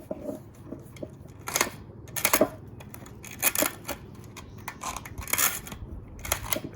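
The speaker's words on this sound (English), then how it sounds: "Cut those wires." Scissors or cutters snip through the wires of a subwoofer being taken apart. The clicks and snaps are close, irregular and scattered, over a low background hum.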